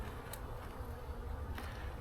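Honey bees hover around an open hive that may be suffering robbing, producing a soft, continuous hum close by, with a couple of brief faint clicks and no speech.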